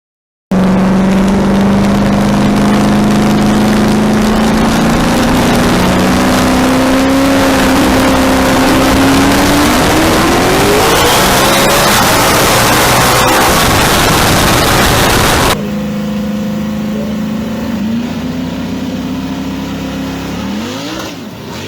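A right-hand-drive Nissan Skyline race car launches and accelerates hard, its loud engine note climbing steadily in pitch through a long pull before cutting off abruptly, with engine noise dropping back afterward.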